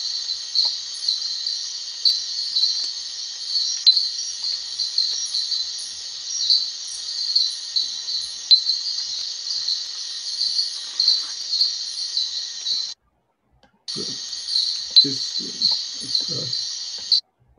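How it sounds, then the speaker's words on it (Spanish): Recorded call of the dink frog, Diasporus diastema: a continuous high-pitched trilling chorus of the kind insects make, steady for about thirteen seconds, then a brief gap, then the call returns alongside a few low thumps. "en inglés le dicen dink frog, la rana dink, y es precisamente por el canto"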